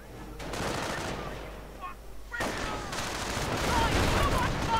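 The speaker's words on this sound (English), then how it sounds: "Mortar firing in support." Mortar and machine gun fire in a WWII strategy video game battle, a dense continuous rattle of gunfire and muffled thumps throughout, with a brief lull before the shooting picks up again.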